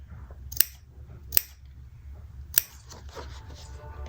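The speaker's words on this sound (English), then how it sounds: "So just cut in a little V out or a little triangle, and then we'll snip in between there." Scissors snip the corners of fabric in three sharp, crisp cuts spaced about a second apart, close and clear against a quiet background.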